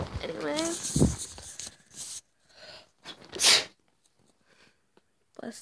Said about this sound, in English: Sneezing over here.